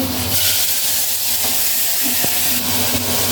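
Masala sizzling in a pan while being sautéed for rohu fish curry with black eggplant, a steady close hiss of frying with a few faint clinks over it.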